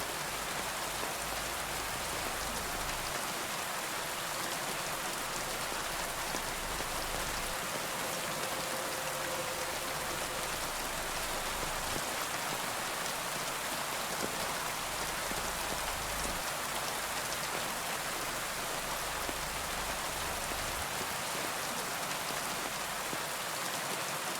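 Steady rain falls on a surface, a continuous dense hiss of countless droplets that stays even and unbroken from start to finish, with no voices or other sounds.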